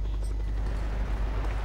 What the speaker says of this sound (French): et un hélicoptère de combat